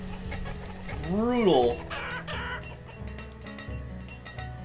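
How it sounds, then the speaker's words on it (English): Chickens clucking in the farming-sim video game Banished, a short rising-falling call over game music, with someone talking briefly. "Chickens? I've got lots of chickens."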